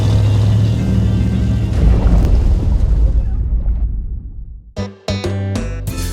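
A 1975 Corvette Stingray driving on the road, with a steady engine drone and heavy wind rush that fade out, followed by a burst of music.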